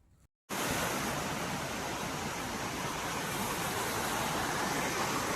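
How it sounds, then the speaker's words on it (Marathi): After a short cut at the start, a muddy mountain stream swollen by rain rushes loudly and continuously, a dense, even roar of flowing water with no talk. "तुम्ही बघू शकता किती पाणी वाहते."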